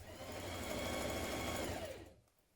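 A sewing machine runs steadily, stitching a 1.5 centimetre seam on a co-ord set garment, a continuous close mechanical whir that stops abruptly near the end.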